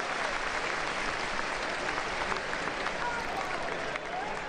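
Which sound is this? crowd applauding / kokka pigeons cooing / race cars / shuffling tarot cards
crowd applauding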